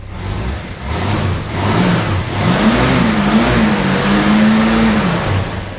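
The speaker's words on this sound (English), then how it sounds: "Carby's back on, filled her up with fuel, we're good to go. It runs normal." A car engine runs steadily after its carburettor has been refitted and the tank filled, a loud, close idle and rev with a rising and falling hum, no voices over it.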